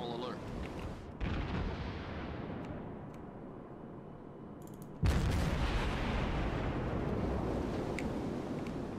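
Heavy naval gun salvos in World of Warships, with two big booming bursts, one near the first second and a larger one at five seconds, each trailing into a long rumbling roar while a voice talks over the battle.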